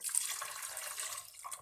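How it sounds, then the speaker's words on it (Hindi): Beef stock being poured into a cooking pot for yakhni pulao, a continuous faint splashing pour of liquid with no voices. "गिलास यखनी डाल देंगे।"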